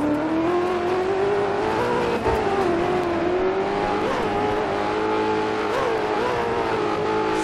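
A racing truck engine in DiRT 4's Baja Landrush off-road event drones loudly and continuously, revving and shifting pitch as it accelerates, with faint tire noise and no talk.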